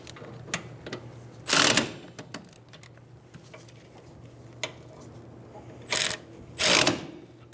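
Rear brake caliper bracket bolts are snugged down on a 2007-2011 Toyota Camry, with a few short, sharp whirring tool bursts and faint clicks in between, loud and close against a quiet garage hum.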